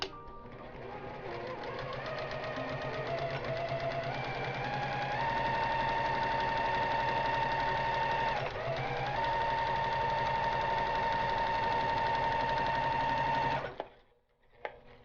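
A sewing machine stitches a seam along the left side of a pillow, running with a close, steady, rapid whirring that speeds up early on, holds a constant pace, then stops abruptly near the end.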